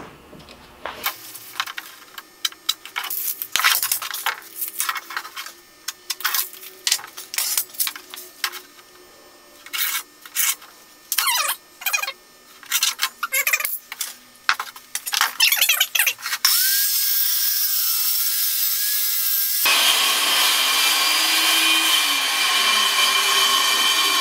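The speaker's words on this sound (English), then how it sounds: "For safety reasons, it's always good to let the saw blade stop before you move the blade." A power saw rips through a wooden board to trim its end, with repeated loud bursts of cutting, then a steady whine as the blade spins down, all close by and without talk.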